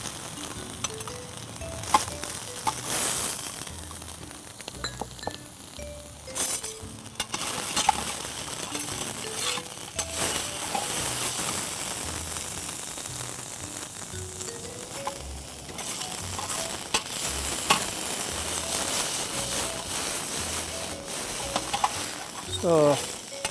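Ginger paste and diced onions sizzle and fry in a pan, a steady crackling hiss broken by scraping stirs and clinks of a utensil, with a person talking over the cooking throughout.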